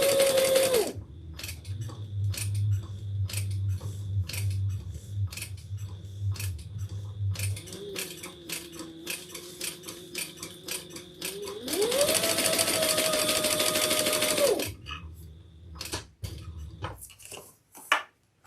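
A sewing machine stitches around the outside of a handbag, running in several close, steady bursts with a whirring motor tone and fast ticking needle strokes, pausing briefly between runs.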